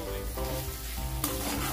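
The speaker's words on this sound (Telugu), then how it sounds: "బాగా కలుపుకోండి." Spicy eggplant curry with roasted peanut powder is stirred in a frying pan, a steady close scraping and sizzling with no voices, continuous for a couple of seconds.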